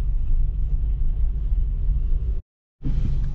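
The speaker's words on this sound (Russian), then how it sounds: "И здесь у нас пробка." Cars stuck in a traffic jam on a street in Almaty, Kazakhstan, in November 2022, heard as a steady low rumble of idling and creeping traffic from inside a vehicle, with a brief full drop-out near the end.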